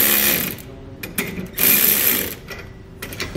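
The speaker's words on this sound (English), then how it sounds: "we can go back and tighten them down" A ratchet tightens the U-bolt nuts on the leaf spring of a 2021 Coachmen Apex Ultra-Lite camper, giving close, loud bursts of rapid clicking in several strokes separated by short pauses.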